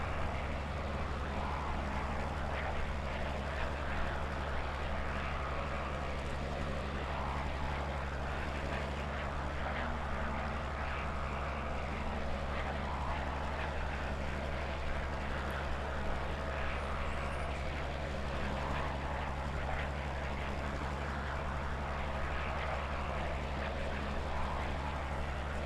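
A warbird's propeller engine drones steadily as the aircraft spirals down in Microsoft Flight Simulator 2020, a constant loud hum with no talking.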